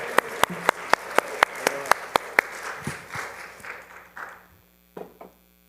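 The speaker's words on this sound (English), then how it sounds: "A big round of applause." A crowd at a Friday night Shabbat service claps in sharp, rapid beats, then the applause scatters and tapers off into a few last claps and some murmuring.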